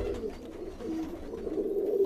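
Soft, low coos from Teddy pigeons in a rooftop loft, a continuous murmuring hum close by and fairly quiet.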